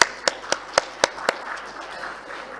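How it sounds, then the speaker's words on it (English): A handful of distinct claps, about six sharp evenly spaced hand claps that then fade into quiet room noise, for panelists at a summit. "Can we have a round of applause for our panelists?"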